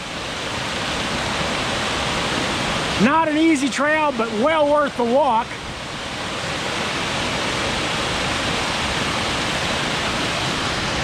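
Eagle Falls, a waterfall along a forest trail feeding a stream to the Cumberland River, gives a constant broadband rushing roar, with someone briefly speaking over it midway.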